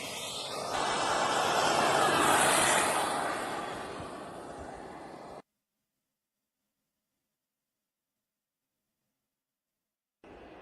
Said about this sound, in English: Oh, it's got a real jet.